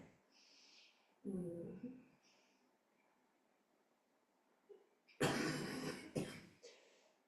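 Two bursts of coughing from a yoga teacher recovering from a viral cough break a quiet room, the first brief and muffled, the second louder and more drawn out, with faint rustling between.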